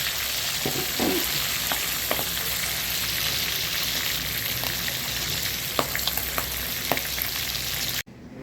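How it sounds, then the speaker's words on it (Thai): Four large catfish pieces fry in hot oil until crisp, a loud, steady close sizzle with scattered pops and a few spatula clicks, cutting off abruptly near the end. "ทอดปลามาสี่ชิ้น"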